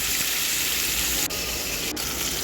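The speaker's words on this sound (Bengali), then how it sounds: "প্রথমে রুই মাছটাকে লবণ হলুদ মাছে রেখেছিলাম তেলের মধ্যে ভেজে নিচ্ছি" Pieces of salted, turmeric-rubbed rohu fish from a large one-kilo fish fry in hot oil, giving a steady, dense hiss and crackle that holds evenly close by without a break, with nobody speaking over it.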